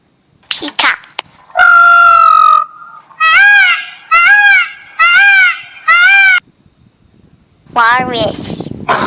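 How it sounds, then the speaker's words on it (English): A peacock gives a run of loud, harmonic honking calls, several repeated wails in close succession with brief gaps, heard alone and close, followed by a harsher rising cry at the end. "Peacock."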